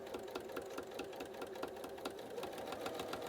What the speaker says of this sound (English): I'm going to stitch here, and I'm just going to go slowly and create the stitch